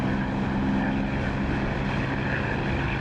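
Propeller aircraft engine drones steadily in the DCS flight simulator after takeoff, a loud, constant buzzing hum with no talking.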